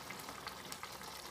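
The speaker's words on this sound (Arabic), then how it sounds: "ونردوها تقلى" Ingredients for Moroccan rfissa, including spices and cinnamon, frying in a pan, a steady soft sizzle and crackle that stays even and close throughout, with no talking.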